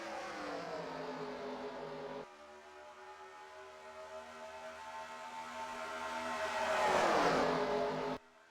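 Stock cars racing at Michigan International Speedway in NASCAR Racing 2003, engines droning steadily as a pack, then one car swells louder as it passes close before cutting off abruptly.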